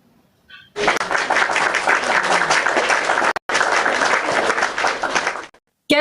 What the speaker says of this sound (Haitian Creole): Bad bravo guys, bad bravo.